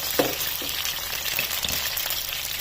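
Chicken frying in oil in a pan, a steady close sizzle with occasional stirring bumps, continuous throughout with no talking.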